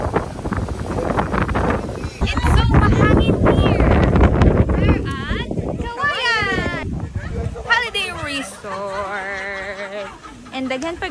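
Strong wind buffets the microphone at Kawayan Holiday Resort on the beach, a loud rumbling roar beneath voices talking and children playing nearby.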